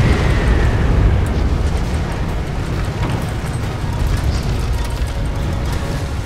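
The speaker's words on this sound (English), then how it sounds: "The Baronite carrier has the cluster missile launcher." Cluster missile launcher fire from a Baronite carrier in the airship combat game Guns of Icarus Alliance: dense rumbling explosions and booms over a constant loud roar of engines and battle.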